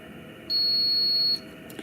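A continuity tester sounds one steady, clear high-pitched beep lasting just under a second while probing along a length of cloth-covered wire during repair of a Zenith 5S320 push button assembly.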